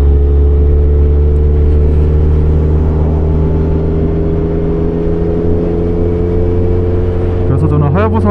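Suzuki Hayabusa motorcycle engine drones steadily and loudly throughout while riding on a road, with a continuous low hum and rushing wind noise, rising briefly near the end as the engine revs.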